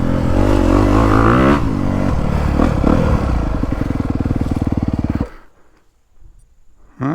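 A 2022 Honda CRF250R dirt bike rides a woods loop, its single-cylinder engine revving hard up close, then burbling at idle before cutting off, leaving near-silence and a short closing blip.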